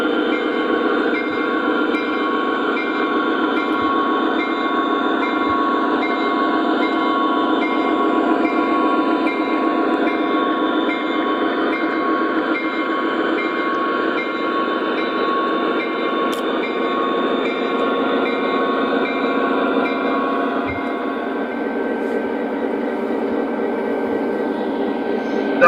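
O gauge model locomotives, ex-Conrail SD40 and SD38 units, hum along the layout in a steady, close motor drone with a constant tonal whine and faint rail clicks, running without pause and with no talk.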